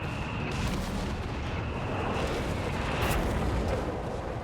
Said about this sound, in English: Drops a flame shell on them.